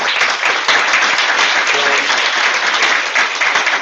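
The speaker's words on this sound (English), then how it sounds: "I think a round of applause for him and for the cause." Loud, close audience applause at a Toronto anniversary event, a dense burst of many hands clapping that stays steady throughout with faint whoops mixed in.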